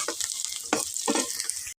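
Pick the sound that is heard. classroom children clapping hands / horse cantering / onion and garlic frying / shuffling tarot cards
onion and garlic frying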